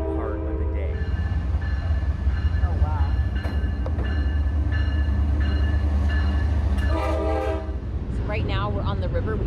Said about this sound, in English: the train happened to be going over just as we were starting